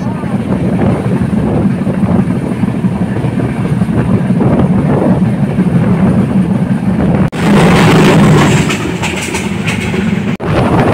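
The Panchagarh Express, a Bangladesh Railway train, runs at high speed with a loud, close, continuous rumble and rattling clatter, briefly cutting out and surging louder partway through.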